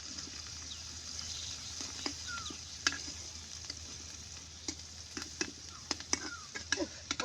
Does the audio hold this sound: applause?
no